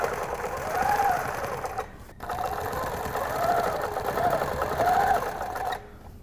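A sewing machine whirs close by in three steady stitching runs, each ending in a short pause, as a quilt is stitched along a template ruler.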